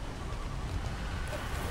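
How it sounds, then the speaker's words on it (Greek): Steady rain in the ARK survival game, a constant hiss of falling drops at moderate level with no talk, filling the whole short stretch evenly. "Να και η βροχή."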